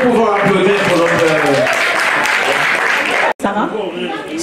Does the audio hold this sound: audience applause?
yes